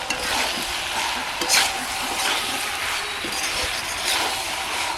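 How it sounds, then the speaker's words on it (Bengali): Prawns sizzle steadily in a hot pan during the braising of a jackfruit and prawn curry, a loud dense hiss with occasional stirring scrapes and no voices. "চিংড়ি মাছগুলো দিয়ে দেবো"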